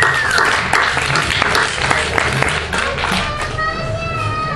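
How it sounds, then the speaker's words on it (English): An audience applauds speaker Robert Pekin at a food system strategies talk, a steady wash of many hands clapping, loud and sustained across the whole stretch. "I'd like a big round of applause for you all to Robert Pekin."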